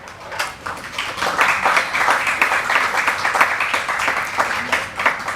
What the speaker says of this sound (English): I request you to continue applauding.